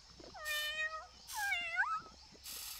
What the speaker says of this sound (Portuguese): Falo, mas aquele dinossauro está a miar.